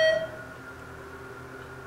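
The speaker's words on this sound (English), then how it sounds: "The supermarket beep." A short tonal beep from a ThyssenKrupp oildraulic elevator in a Hyatt hotel, sounding once at the start and fading into a low steady hum.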